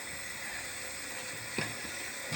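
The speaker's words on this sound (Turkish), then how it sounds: "Burada da ben mantarı çok sevdiğim için şöyle tavaya kendime özel mantar koydum." Mushrooms sizzle quietly in a frying pan as an even, faint hiss, with a single brief louder crackle partway through.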